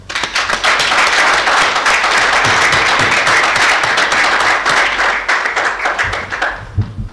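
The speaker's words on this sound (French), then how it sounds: "Je voudrais ici l'applaudir." An audience at a women's leadership training event breaks into sustained applause, a thick wash of clapping lasting around six seconds before thinning out and stopping near the end.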